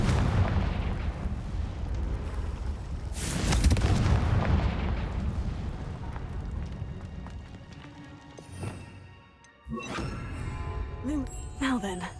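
A Confringo fire spell blasts in the Hogwarts Legacy video game, a loud burst amid ongoing game action and rumbling, with booming impacts and a voice speaking during the clip.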